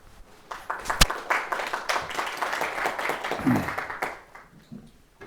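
Audience applause at a classical humanities lecture on Plato: a dense crowd of clapping hands swells in quickly and holds steady for about three and a half seconds before tapering off into quieter room tone.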